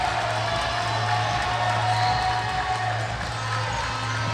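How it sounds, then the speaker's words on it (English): Crowd noise in a gym at a boys' junior varsity basketball championship, a loud steady roar of cheering and shouting voices with scattered whoops, continuous throughout. "Oh, listen to this crowd."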